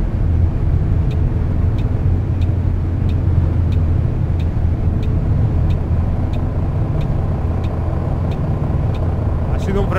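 A heavy Neoplan Skyliner double-deck coach in Fernbus brakes hard on a country road, its loud engine drone and road rumble steady throughout, with a regular ticking repeating over it and a short hiss at the end.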